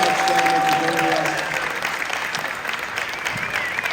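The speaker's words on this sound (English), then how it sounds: "a big round of applause for all the mental models up here" An audience at a horror film reunion panel breaks into a big round of applause for the guests on stage, loud dense clapping that thins slightly, with a brief tone and faint voices mixed in early on.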